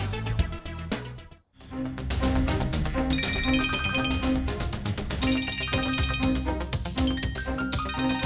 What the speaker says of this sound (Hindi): ओह, लगता है डीसीपी का फोन है।